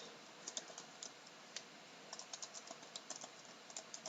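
Quiet clicking of keys on a computer keyboard as an email address is typed, irregular bursts of light taps with short pauses, close and soft, no voices.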